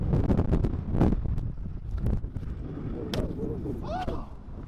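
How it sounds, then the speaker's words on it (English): Strong wind rumbles and buffets a microphone outdoors at a Melbourne street spot, a heavy low roar with gusty thumps throughout, a voice briefly heard near the end. "The wind is hectic, as you can probably hear."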